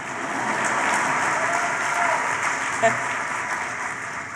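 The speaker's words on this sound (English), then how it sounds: "You can clap for that." Sustained applause from an audience, a dense, even wash of clapping that holds steady throughout, with a voice briefly rising over it.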